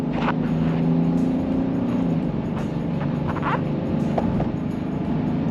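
A 2009 Mercedes-Benz S320 CDI W221 with a diesel V6 accelerating at about 70% throttle past 120, its engine a subdued steady hum under a low rumble of road and wind noise from inside the cabin.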